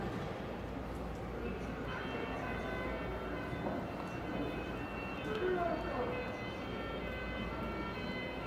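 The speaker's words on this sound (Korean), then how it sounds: "사이렌을 울리는 앰뷸런스가 지나갔는데" An ambulance siren wails through street noise, loud at first and then gradually fading and dropping in pitch as the vehicle passes and moves away, under a constant rumble of traffic.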